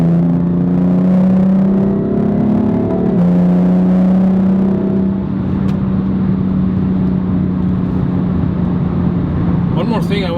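BMW M4 Competition LCI with M Performance Parts, engine droning steadily under load at low RPM with a brief pitch shift as it pulls, heard from inside the cabin with a person talking over it.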